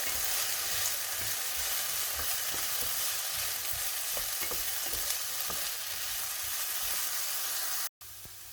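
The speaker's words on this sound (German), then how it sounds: "3 große Kartoffeln ganz klein würfeln und dazugeben und ja, kurz mit anbraten, bis die so goldbraun sind." Finely diced potatoes fry in a pan, giving a constant close sizzle with occasional stirring scrapes and a short break near the end.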